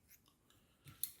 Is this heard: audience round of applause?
no